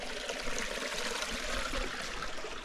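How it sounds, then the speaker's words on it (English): Steady broadband rushing of a creek flowing through the woods on a Yosemite hike to Clouds Rest, soft and continuous with no voices, a gentle constant wash of water throughout. "Really pretty creek flowing through."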